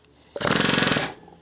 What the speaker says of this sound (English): So I'm going to use an air hammer and drive everything out of here.